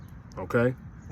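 A dog barks once, loud and close, out in a backyard, giving a short yip and whimpering sounds just before it, while someone says a word.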